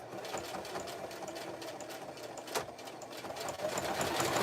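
A sewing machine zigzag-stitching strips of fabric for a rag rug, a steady close mechanical whirring hum with fast rhythmic clatter that rises slightly toward the end.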